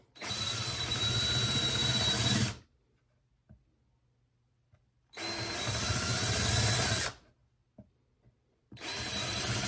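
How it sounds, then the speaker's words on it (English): A power drill with a larger bit countersinks a screw hole in wood, whirring loudly in three bursts, about two seconds each, with near-silent gaps and faint clicks between them. "take a larger bit and then drill a little deeper so the screw head goes down into the wood"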